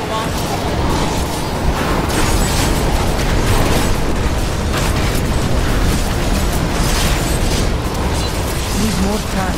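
Dense, continuous rumbling explosions and crashing bursts from a barbarian's earthquake skills in a Diablo-style Greater Rift battle, loud and layered with constant game effects throughout.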